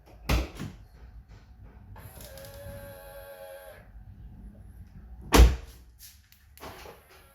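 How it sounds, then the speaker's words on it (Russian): A Mercedes W212 or W204 car door is opened by hand, with a sharp latch click and clunk near the start and another at about five seconds, separated by a quieter mechanical whir, all close up with no talking. "Открываем дверь"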